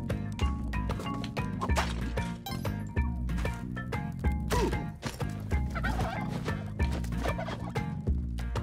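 Turkeys gobble repeatedly in the video game Spelunky 2, mixed into a dense, steady wash of game music and sound effects that stays loud throughout.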